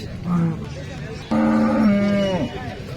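A Gir cow moos nearby at a cattle market in Sangola, Maharashtra, a short low call followed by a longer, louder drawn-out moo that trails off, with faint outdoor background.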